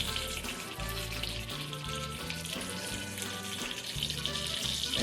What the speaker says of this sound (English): And as you can see, they're frying up nicely.